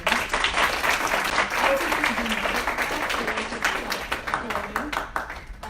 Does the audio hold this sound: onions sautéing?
no